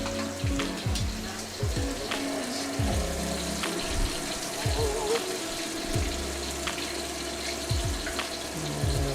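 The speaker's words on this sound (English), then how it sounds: "when we're frying chicken like this" Quiet, continuous bubbling and crackling of chicken deep frying in hot oil, with scattered pops and a faint low hum underneath.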